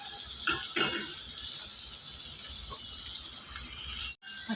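Onions sauté in hot oil with chili powder for a Kerala chicken curry, giving a steady soft sizzle with a few brief louder stirring scrapes and clinks near the start, close by and with no talking.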